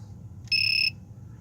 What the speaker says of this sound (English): you just hold it on for 2 or 3 seconds and you'll hear it beep in there